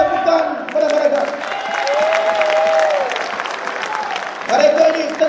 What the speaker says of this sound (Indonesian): Kita beri satu tepuk tangan kepada mereka.